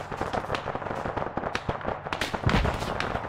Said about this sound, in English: Oh god, taking fire.